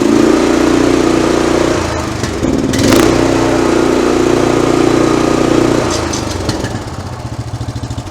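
Engine of a used auction-bought stump grinder running loud and close, a steady rough mechanical drone with a brief clatter partway through, then settling into a choppier rhythm at the end.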